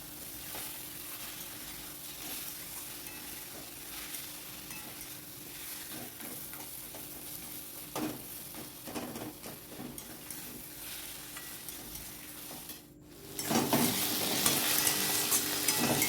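Pre-fried fish heads sizzling in oil in a pan with ash gourd and cumin powder, a continuous close frying hiss with occasional stirring clicks, swelling louder in the final seconds.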